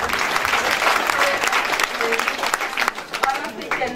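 A crowd at a university award ceremony applauds the recipient, dense sustained clapping from the start that thins out toward the end, with faint voices and cheers mixed in.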